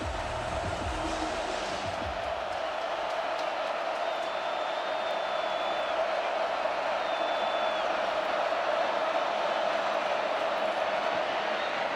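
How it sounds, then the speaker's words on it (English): A college football stadium crowd, Arkansas against Auburn, roaring steadily on a big third down, a broad distant wash of noise that holds level the whole time with a faint whistle-like tone drifting over it. "Crowd getting involved on another big 3rd down."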